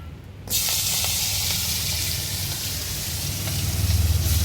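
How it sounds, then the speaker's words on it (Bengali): Crabs hitting hot oil in a wok for a village-style spicy crab dish, a sudden loud sizzle that bursts in after a short quiet start and holds as a steady, close frying hiss to the end. "কাঁকড়াগুলো ছাইড়ে দিতেছি।"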